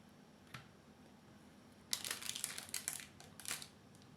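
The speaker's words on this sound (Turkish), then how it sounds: "şimdi kurabiyelerim soğumadan böyle bir bardak yardımıyla bastıracağım" Freshly baked coffee cookies pressed flat with a glass while still warm, giving a soft single crunch followed by a close burst of crumbly crackling crushes, quiet and with no talking.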